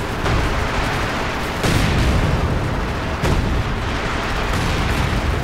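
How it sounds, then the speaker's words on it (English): A light artillery barrage in the World War II strategy game Company of Heroes 2 rumbles loud and dense, with repeated heavy booms and explosions layered over continuous battle noise. "Light artillery going down to cover the retreat"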